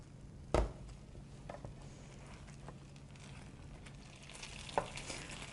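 Bread soaked overnight in an egg-and-milk mixture, laid into melted butter in a pan for cinnamon-sugar French toast, sizzling in a steady, soft hiss. Two brief thumps from the pan break the frying noise.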